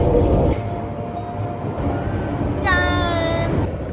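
A London Underground train rumbles loudly throughout, with a brief high-pitched whine of rising tones partway through as the cars roll on.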